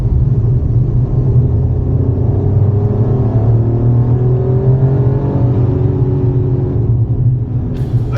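Maruti Celerio small petrol hatchback with manual gearbox accelerating on an open road, its engine a steady droning hum rising smoothly in pitch under road rumble, with no talk.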